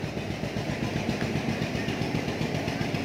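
A 2018 4x4 tractor with an AC cabin, Sonalika or New Holland, idles with a steady low rumble and even throbbing pulse, close and continuous, with no talk.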